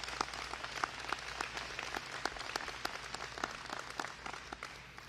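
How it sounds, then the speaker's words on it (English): Audience applause at an Illinois governor's public event on state youth investments: a steady, fairly distant patter of many hands clapping, with sharper individual claps standing out, and no talking over it. "Let's give him a round of applause."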